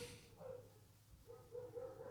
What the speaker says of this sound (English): we got the dogs barking